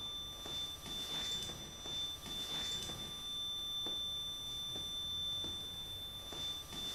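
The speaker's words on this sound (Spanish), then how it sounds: "al detectar cambios en el campo electromagnético del ambiente emite un pitido totalmente disonante y sin armonía" A steady high electronic tone from a REMPOT electromagnetic field detector hums continuously during a paranormal investigation, with faint clicks and taps around it, no voices present.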